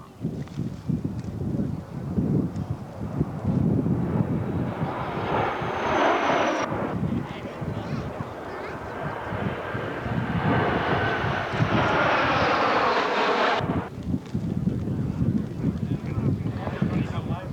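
Ansett airliner making a high-speed run at a 1984 airshow in Ballarat or Mangalore, a loud sustained jet roar with rising whine and wind buffeting, with a commentator's voice over it.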